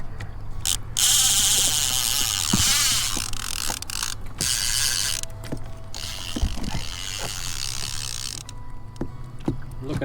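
A fishing reel clicker ratcheting out line on a boat while fishing for flathead, with irregular clicks and mechanical rattles over a steady low engine hum.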